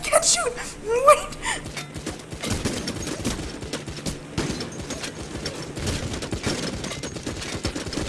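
Rapid gunfire from a firearm in the heist video game Payday: The Heist, bursts of shots rattling through most of the stretch while players talk over it.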